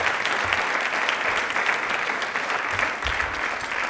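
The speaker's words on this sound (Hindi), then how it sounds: "एक बार तालियां प्लीज बजा लीजिए इनके लिए" A studio audience on a televised quiz show claps for a contestant who answered correctly, a full, even burst of applause from many hands lasting a few seconds with no voices over it.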